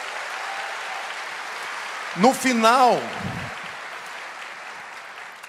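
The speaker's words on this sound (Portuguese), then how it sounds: "Vamos dar uma salva de palmas para ela" Steady applause fills a church as the congregation claps for a guest speaker, sustained throughout while a voice speaks briefly over it in the middle.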